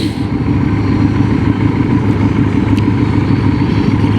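Motorcycle engines rumble and idle in a steady, loud low drone at the ABR bike festival, with Harleys and BMWs among the bikes, a constant close mechanical throb without pauses.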